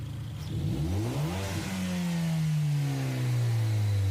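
A turbocharged rally car engine in Gran Turismo 7 revs up and down through several rising and falling sweeps, then holds a loud, sustained drone, close and alone.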